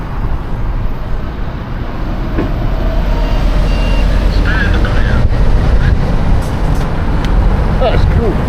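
A truck's reversing warning beeps sound a few times amid loud wind buffeting and traffic rumble on a street beside the Rosebank Whiskey Distillery, heard while riding an e-bike.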